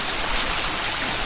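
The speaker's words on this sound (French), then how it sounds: "Attention, voilà la douche." A cleaning shower rig sprays water down onto a TV set stage, a loud, steady, broadband hiss like heavy rain pouring without a break, with no one speaking over it.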